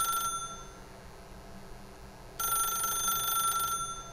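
A telephone rings in the video game The Stanley Parable, a brief electronic trill at the start and then a longer, louder ring, thin and steady over a quiet, hushed room tone.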